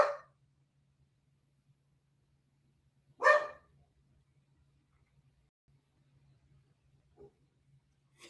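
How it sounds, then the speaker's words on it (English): A dog barks twice, sharp single barks a few seconds apart, fairly close in an otherwise quiet room with a faint low hum. "Fucking dog is crazy, bro."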